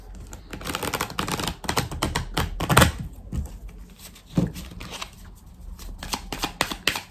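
Oracle cards, the Bélin deck, are shuffled by hand for a cross spread: a close, continuous run of crisp riffling flutters and taps with irregular rhythm and no speech.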